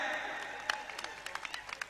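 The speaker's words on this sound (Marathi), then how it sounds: "करा की टाळ्या." Scattered handclaps from a small audience at a Bhima Kesari wrestling event, uneven and fairly brief, with a hum of crowd noise underneath.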